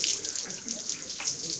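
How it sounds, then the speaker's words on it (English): Water runs from a tap while hands are washed before prayer, a close, continuous splashing stream over a sink. "we'll commence by washing the hands three times, and then we can close the tap thereafter."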